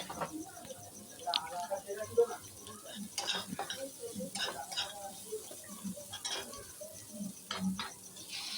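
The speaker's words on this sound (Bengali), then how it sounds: "গরম মশলাটা দিয়ে আবার একটুখানি নাড়ব" A spoon stirs chicken vegetable corn soup with garam masala in a pot, giving soft irregular scrapes and clinks with a light sizzle while someone talks over it.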